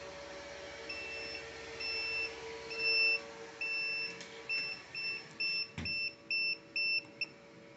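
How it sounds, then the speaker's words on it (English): A hatchery machine's alarm controller beeps in a rising series of short electronic tones, intermittent at first and then a fast regular pattern, over a low steady machine hum. "You have to press the down button and it will turn off the alarm."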